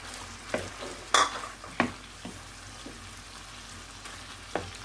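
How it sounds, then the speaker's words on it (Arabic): A utensil stirs chicken and canned mushrooms frying in a pan, a low steady sizzle broken by a few sharp scrapes and clacks against the pan. "وغادي نبقاو نخلطوا المكونات ديالنا مزيان حتى يتشحر لينا هذاك الشامبينيون حتى هو"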